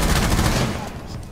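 Rapid gunfire in the tactical shooter Rainbow Six Siege comes as a dense, loud burst of shots that fades slightly over about a second, with no speech over it.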